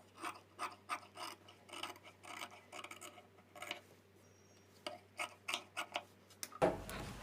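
Scissors cut extra blouse lining fabric at the neckline, a series of soft, close snipping and rasping strokes in an irregular rhythm with short pauses, and no talking.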